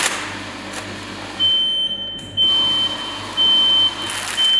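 A textile-industry needle detector sounds its alarm as fabric passes through, three steady high-pitched electronic beeps of about a second each at regular intervals over a low machine hum.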